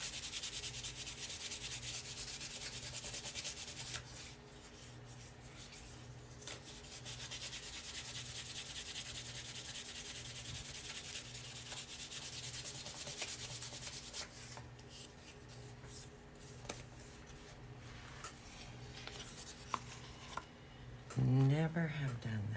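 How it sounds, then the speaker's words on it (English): Sanding an Easter bunny window insert, a steady rubbing scrape with a regular back-and-forth rhythm that carries on for most of the stretch, close and moderately loud, with a brief clatter near the end. "I think if I sand this off, that'll help matters."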